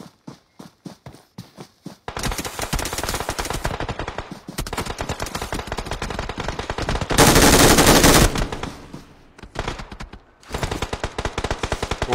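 Machine gun fire in the video game PUBG Mobile: a quick run of separate shots opens, then long sustained automatic bursts roar loudly for several seconds, with a brief pause before a final burst resumes.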